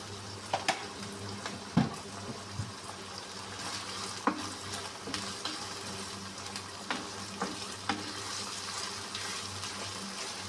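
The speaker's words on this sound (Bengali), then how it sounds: "এই যে ছিমের বিচিটা আমি মানে তেলের সাথে একটু ভেজে নিব" Flat bean seeds fry in a small amount of oil in a pan, a steady close sizzle with occasional stirring clinks and taps over it.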